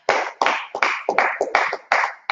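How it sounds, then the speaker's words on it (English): An audience claps in unison in sharp, regular beats, about eight loud claps in quick rhythmic succession with no talking. "Let's clap it up."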